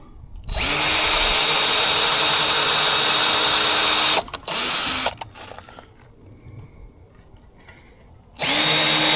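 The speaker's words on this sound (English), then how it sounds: "So now we're just going to come down here and start pre-drilling some holes." A power drill pre-drills holes in wood for a DIY 4x8 camper, running in loud, sustained high-pitched bursts that stop and restart, with quieter handling noise in between.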